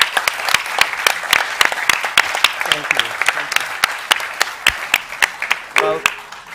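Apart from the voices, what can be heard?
audience applause for panelists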